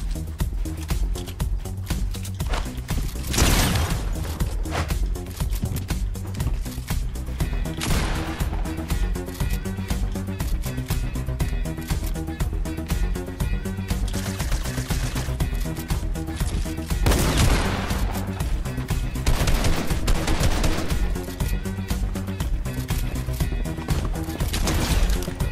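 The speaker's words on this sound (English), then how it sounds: "Somebody else is trying to shoot at me." Gunfire from the video game Fortnite, OG mode in a duos match: several loud bursts of shots break through a dense, steady wash of in-game sound over about twenty-five seconds.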